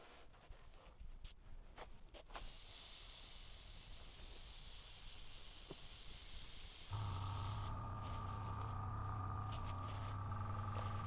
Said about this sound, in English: The airbrush is quite messy at the moment.